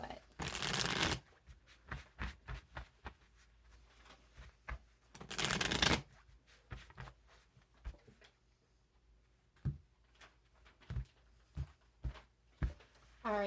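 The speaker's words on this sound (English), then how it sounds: "I'm just going to give these a couple healthy shuffles" A tarot deck is shuffled up close in two long riffling bursts, then a run of softer, scattered card taps and slides, with quiet gaps between them.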